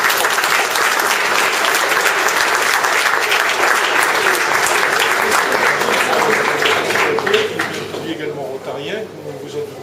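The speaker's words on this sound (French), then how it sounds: "Je voudrais qu'on vous applaudisse." An audience at a Rotary Club tournament event applauds, dense sustained clapping for several seconds that thins toward the end, with voices murmuring underneath.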